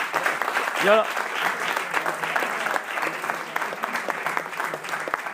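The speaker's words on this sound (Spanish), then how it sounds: "Me gustaría dedicar este aplauso" An audience gives sustained, dense applause after a lecture on forms of energy, many hands clapping evenly and fairly close throughout, with a brief whistling tone near the start.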